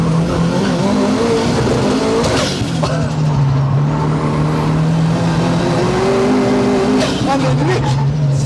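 A 600 hp Subaru GT Turbo on slick tires roars loudly under hard acceleration, its engine note rising and dropping through gear changes with brief tire squeal, recorded from inside as someone talks over it.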